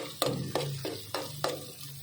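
Chopped garlic sizzles in hot oil in a pan alongside pork, with a steady frying hiss broken by about five sharp stirring scrapes at a regular pace, close and fairly quiet.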